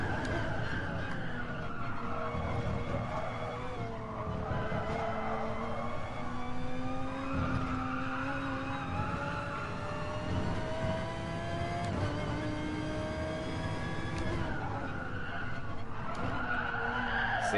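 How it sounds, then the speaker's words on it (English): A race car in a racing video game locks its wheels and skids, with a long wavering tyre squeal over a continuous engine drone that rises and falls as the car slides. "Just made the car just feel like it just locked up and slid."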